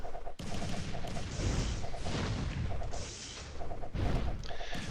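Units firing in the Idle Kingdom Defense video game make a dense, continuous barrage of overlapping gunfire-like bursts and thumps with a repeating tonal pattern, loud and steady throughout with no talking.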